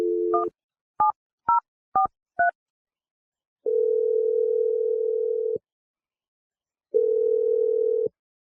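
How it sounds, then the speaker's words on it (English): A landline telephone plays a string of short touch-tone dialing beeps, then two long steady tones with a gap between them, clear and close with no voices. "I'm going to dial your boss, Aaron, and we'll let you make your Awkward"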